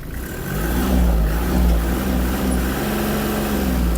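A Kubota KT-27 mini tractor with a cab has its diesel engine revved up, a loud close throaty drone that climbs and then holds at higher revs with slight wavering, with no talking.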